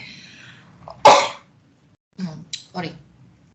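A person sneezes once, a sharp loud burst close to the listener, followed by quieter breathy sounds and shorter throat noises with pauses in between.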